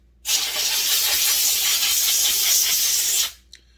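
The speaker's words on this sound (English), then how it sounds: "I'm just gonna rinse the crud off of it down here in the box." A spray nozzle rinses grime off a Husqvarna 288XPG chainsaw part into a box, a steady close hiss of spraying water lasting about three seconds before cutting off, followed by a faint knock.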